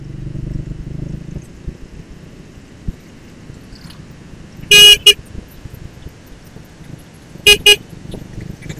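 Two short bursts of a new horn on a Triumph Speed 400X motorcycle blare loud and close, each a quick double toot, against quiet idling background noise.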